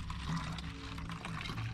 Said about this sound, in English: Refilling the smart water bottles.